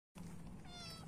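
A house cat meows at someone arriving home on a rainy day, a single drawn-out meow that starts suddenly after silence and carries close and clear for about a second.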